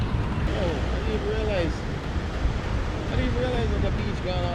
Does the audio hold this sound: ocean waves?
yes